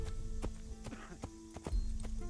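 Sharp, evenly spaced horse hoofbeats in the video game Assassin's Creed clip-clop at a walking pace over a low steady hum, with faint background sound.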